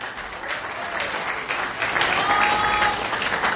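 A church congregation breaks into sustained applause during a worship service, the clapping swelling and growing louder toward the end, with faint voices mixed in.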